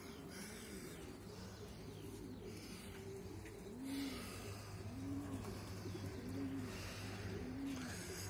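Racing pigeons coo at the loft as birds return from a 200 km race flight, with several distinct, rounded coos repeating at a steady pace over a soft background hum.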